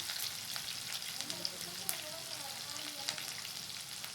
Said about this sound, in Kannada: ಉದ್ದಿನಬೇಳೆ, ಈಗ ಈರುಳ್ಳಿ ಮತ್ತು ಕರಿಬೇವನ್ನ ಹಾಕ್ತಾಯಿದ್ದೀನಿ